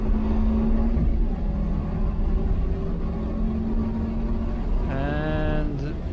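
Subaru STI on a race track, engine droning steadily and loud from inside the cabin with rising whine toward the end, while a driver talks over it.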